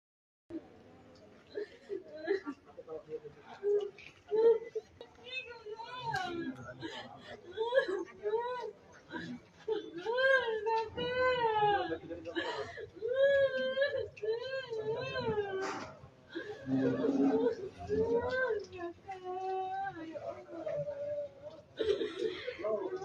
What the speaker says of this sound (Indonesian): Terdengar suara tangisan yang pilu sekali dari